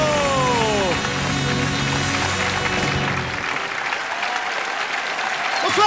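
Studio audience applause and cheering welcome Gérard Jugnot onto a French TV show stage, dense and loud at first with a descending whistle, then thinning and fading as the clapping dies down.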